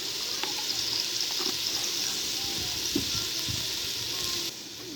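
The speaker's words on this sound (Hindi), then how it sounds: "मैं जो है हल्दी डाल रहा हूँ।" Turmeric going into hot oil for a chicken and potato curry: a steady, fairly faint frying sizzle with a few light clinks and stirs, easing slightly near the end.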